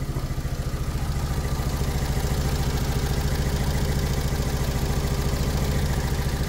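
A Fiat Punto 1.2 petrol engine idles close by, running rough and shuddering with a steady, pulsing low rumble that throbs unbroken throughout, with no voices.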